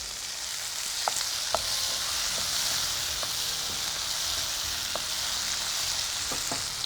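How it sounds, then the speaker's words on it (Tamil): Eggplant and tomato sauté in a pan, a steady broad sizzle throughout with a few faint clicks of stirring, nobody talking. "கத்திரிக்காய் ஓரளவுக்கு வதங்கிருச்சு, தக்காளியும் ஓரளவுக்கு வதங்கிருச்சு."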